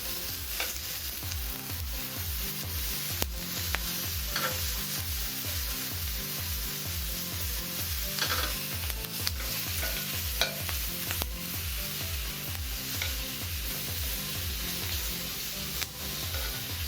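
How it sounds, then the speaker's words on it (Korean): Vegetables sizzle and fry in a preheated pan while being stirred and turned, with a continuous crackling sizzle and recurring scraping, clattering stirring sounds close by, no voices. "예열된 팬에 채소를 넣어서 구워주시면 되는데요"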